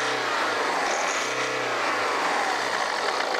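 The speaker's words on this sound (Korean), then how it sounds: "시동을 걸고 요거 악셀을 한번 밟으면" A BMW 520d G30 diesel engine revs up sharply as the accelerator is pressed, a loud rising roar heard up close, then holds at high revs.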